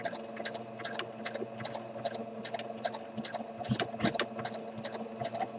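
Free motion stitching on a sewing machine, roughening an edge to suggest feathers around a painted bird: a steady, close mechanical whir with rapid repeated clicking ticks that speed up and slow down, no talking.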